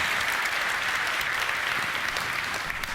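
Audience at a live Nvidia RTX 2080 announcement event applauding steadily, a dense wash of clapping that holds at an even level for the full three seconds with no voices above it.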